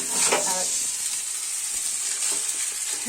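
Mixed chow mein stir-frying on a gas stove, a loud, steady sizzle with bursts of stirring and tossing, close and continuous.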